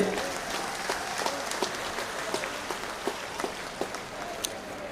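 Crowd applause at a political election rally in Assandh, Haryana, heard as a fairly faint, scattered wash of clapping with distinct sharper claps standing out near the end.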